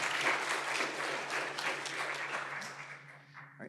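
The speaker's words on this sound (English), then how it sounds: "let's give Nick a big round of applause" An audience at a university decarbonization symposium breakout session applauds with a dense, steady round of clapping that fades out after a few seconds.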